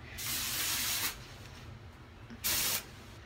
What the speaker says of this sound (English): So this is dry powder with hairspray in it.